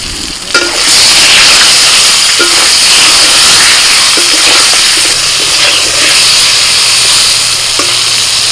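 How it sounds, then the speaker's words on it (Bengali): Eggplant slices seasoned with salt and turmeric fry in hot mustard-style oil left over from frying fish, giving a loud, steady sizzle and hiss throughout with occasional stirring clinks and no talking. "সব মাছ ভাজা হয়ে গেছে, ওই তেলেই বেগুনটা ভেজে নেব।"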